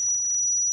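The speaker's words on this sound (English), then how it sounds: "Turn off that shitty alarm." A 12-volt backup sump pump alarm gives a steady, piercing high-pitched electronic tone that holds without a break under a low background hum.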